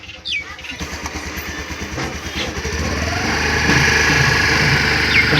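A Honda Activa scooter engine sputters to life and runs with a fast, buzzing putter that grows steadily louder and fuller as it revs up, heard close by.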